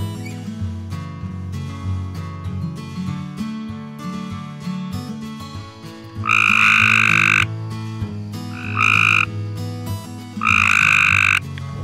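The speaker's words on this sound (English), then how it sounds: "we had upland chorus frogs, spring peepers, mountain chorus frogs, American toads, green frogs" A loud, close chorus of frogs in a restored floodplain wetland in spring, with upland chorus frogs, spring peepers and other frogs calling; dense layered croaking and trilling, with three bursts of shrill trills standing out near the end.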